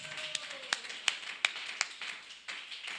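Church congregation clapping in acclamation of Jesus Christ during a French-language sermon, a loose scatter of hand claps with several sharper, louder slaps standing out over a faint murmur.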